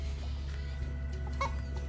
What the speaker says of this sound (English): So those are frizzle chickens.